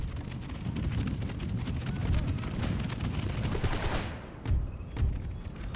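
Musket volley fire from massed line infantry in an Empire: Total War battle with the Mysore faction: a dense, rolling crackle of many shots for about four seconds, then a few sharper separate bursts.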